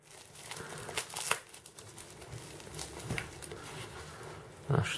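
A cardboard box sealed with tape is handled and unwrapped, giving crinkling and tearing rustles through the clip with a louder burst near the end, fairly close and without talk.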